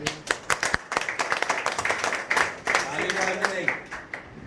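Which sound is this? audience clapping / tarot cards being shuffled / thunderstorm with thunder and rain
audience clapping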